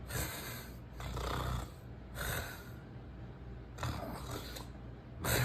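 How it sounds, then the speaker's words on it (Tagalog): Loud, rough snoring in a steady rhythm, each long rasping breath separated by short pauses, close to the listener. "parang kinakausap na tayo ng hilik"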